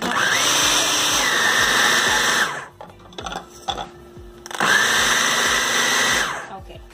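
A kitchen blender grinds green chili sambal in two loud, whirring bursts of about two and a half seconds each, with a short pause of clatter between them.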